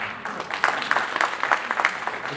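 An audience claps at a Maithili Sahitya Mahasabha gathering in Delhi, a brief burst of scattered, moderately loud applause in a hall.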